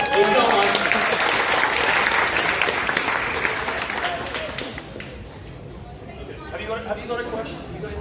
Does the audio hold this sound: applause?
yes